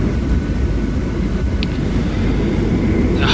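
An airplane takes off at Naha airport, a loud, steady low roar that fills the space without a break.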